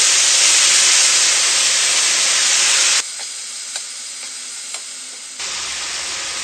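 Chopped herbs for Uzbek samsa filling fry in a little oil, giving a loud close steady sizzle and hiss that drops to a quieter crackle with a few stirring clicks, then swells again.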